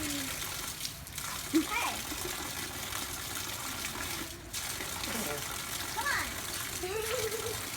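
Steady rain falls and spatters around people showering outdoors, a continuous wash of water under the voices of an adult and a child calling out.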